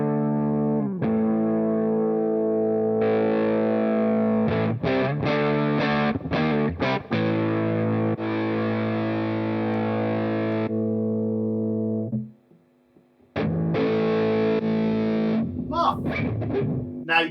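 An electric guitar plays through a NUX MG-101 multi-effects unit set to its Morning Drive distortion, giving loud sustained crunchy chords and some quick strums, then a short pause and more chords with a buzzy hiss left between them.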